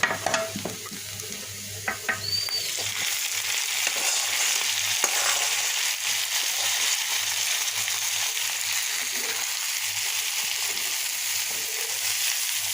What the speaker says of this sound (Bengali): এই যে পেঁয়াজ আর রসুন ভেজে নিয়েছি এখন শাকগুলো দিয়ে দেবে